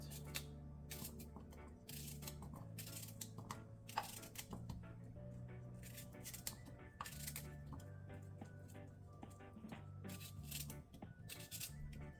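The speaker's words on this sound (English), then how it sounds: "Let's get this carrot cut." A knife dices a carrot on a board, making quick, crisp, fairly faint chopping taps in irregular bursts over steady tonal background music.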